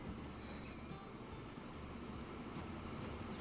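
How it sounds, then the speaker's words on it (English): Trains climbing uphill in the rail simulation game Transport Fever 2 give off a faint, steady rumble of wheels and carriages with a thin squeal and a light clack partway through. "we're going uphill right there, but it's good things with these stronger trains, they can hold their speed very well"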